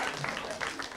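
A brief burst of audience clapping at a live comedy evening, dense and fairly close for about a second, with speech faintly mixed in.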